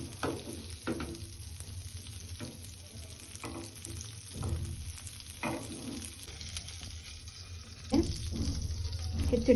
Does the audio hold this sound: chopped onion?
yes